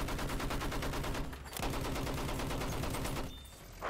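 Sustained enemy gunfire in the Battlefield 1 game, rapid rhythmic automatic bursts with a brief gap, loud and dense almost throughout.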